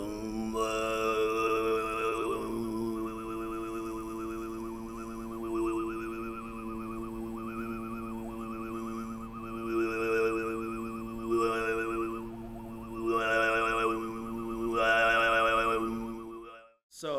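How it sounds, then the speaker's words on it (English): Tuvan throat singing in the borbangnadyr style, meant to evoke a running stream: a steady low drone topped by a wavering, bubbling whistle-like overtone melody, continuous and close for about sixteen seconds. "as a throat singing technique, it looks to emulate a stream or a stream of running water."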